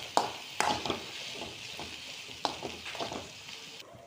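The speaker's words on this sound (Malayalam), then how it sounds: "നമുക്കൊന്ന് ഇളക്കിയിട്ട് കൊടുക്കാം." Okra stir-fry being stirred in a pan, a steady sizzle broken by scraping strokes of the spoon at irregular intervals, close and moderately loud with no talking.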